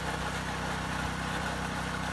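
A steady, low engine drone runs without a break at moderate distance, with an even, throbbing idle.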